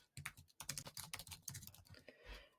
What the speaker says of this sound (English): you can fill in the form by typing in their name and their details